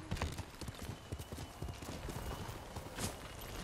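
Rapid, steady clip-clop of a horse's hooves at a brisk pace in the video game Ghost of Tsushima, close and prominent with little else over it.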